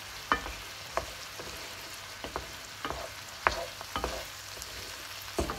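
Onions and bell peppers fry in a hot pan, a steady close sizzle broken by regular clacks and scrapes of a utensil stirring them, with no one talking.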